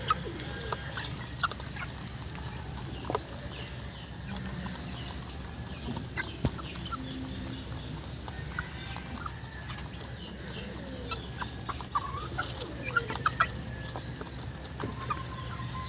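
Two-month-old chicks cluck and peep at low level throughout, a steady busy flock murmur with scattered short calls and faint background rustle.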